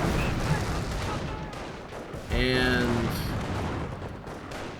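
A Calliope rocket artillery unit in the Company of Heroes game fires a short burst of launches amid battlefield noise, with a commentator talking over it.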